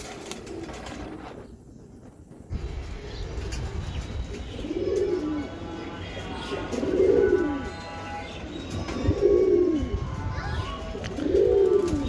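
Racing pigeons from a breeder's loft coo in repeated soft, rolling calls at a steady rhythm, fairly close, over a low background hum.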